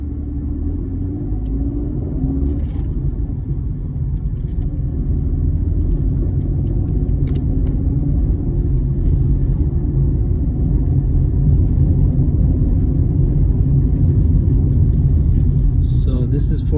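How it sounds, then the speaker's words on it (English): A car drives through central Alberton, Johannesburg at midday, its low engine rumble and road noise steady and close throughout, with someone talking over it. "I am driving in the middle of the day on a Tuesday."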